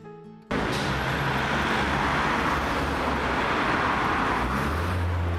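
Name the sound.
street traffic at a city intersection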